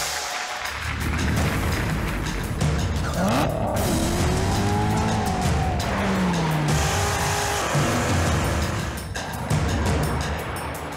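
A 2019 Corvette ZR1 drives at its Middle East unveiling event, its loud engine roaring with rising and falling revs while tires squeal and skid through turns, continuous and close over a roomy background.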